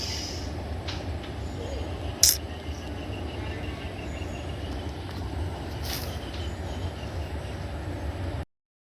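Train rumbling steadily past in rural Odisha village surroundings, a continuous loud low roar with rattling wagons lasting several seconds, a brief sharp clank midway, insects chirping faintly, before it cuts off abruptly.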